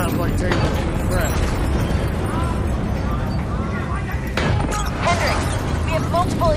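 Dense, loud rumbling with repeated booming blasts and crackling bursts of explosions across a facility in Call of Duty: Black Ops 3, layered under urgent speech and shouting.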